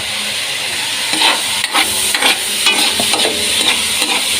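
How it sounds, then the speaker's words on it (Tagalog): Tomato and onion sauté loudly in a pan under a close sizzling hiss, and a ladle stirs and scrapes through them in repeated strokes. "Ayan, ginisa na po yung kamatis sibuyas."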